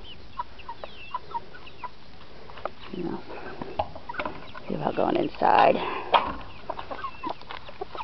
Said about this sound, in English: Okay, here's my chicken pen.